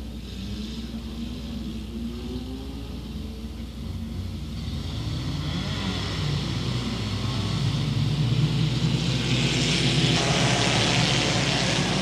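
Front-wheel-drive race cars at Crossville Raceway, a steady engine roar that swells as the pack builds speed and draws nearer, growing louder toward the end.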